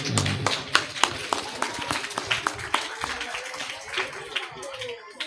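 Applause at a school report-card ceremony: a crowd claps in brisk, uneven bursts with sharp individual hand claps standing out, fairly close and steady for several seconds, with some voices mixed in.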